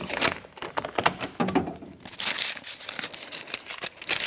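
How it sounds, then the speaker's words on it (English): Adhesive tape being peeled and pulled off the window channel inside a 1992-1996 Ford F-150 door, a run of close, crinkly tearing and crackling bursts with a brief pause midway, no talk. "so we can undo our tape"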